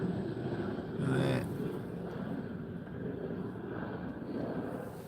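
A Sounds Air propeller plane drones overhead at moderate distance in the rain, swelling briefly then fading, while a person says a single word.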